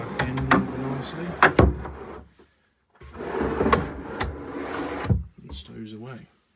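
A homemade camping drawer in the boot of a Land Rover Discovery 3 rumbles as it slides, with rattling wooden knocks, then goes quiet before another long slide and a closing thud; someone talks over parts of it.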